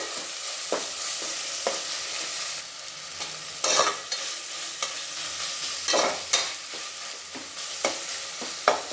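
Tomato, green chili and mint leaves frying in hot oil for pulao, a steady sizzle with occasional sharper crackles and the scrape of a stirring spoon, close and without talk.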